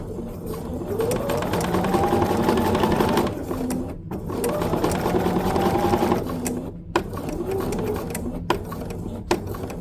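A sewing machine stitches down a fusible raw-edge appliqué on a quilt, running in steady motorized bursts with short pauses and a few sharp clicks between runs.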